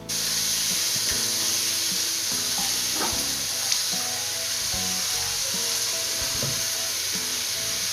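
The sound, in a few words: spiced clam meat frying in a hot pan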